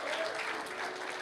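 Applause from a church congregation at a Sunday evening worship service, a steady, dense wash of clapping across the whole moment with no talk over it.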